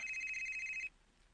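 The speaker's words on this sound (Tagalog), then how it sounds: "Yan ang cellphone na nag-ring." A cellphone ringtone trills in a steady electronic pattern for almost a second, close and clear, then cuts off abruptly, leaving quiet room tone.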